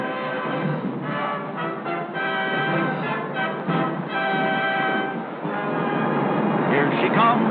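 The Yankee Clipper passenger train rolls into the upper-level tracks at Grand Central Terminal in 1942, a steady rumbling rail roar with tonal hums, heard through narrow-band vintage recording under a narrator's voice.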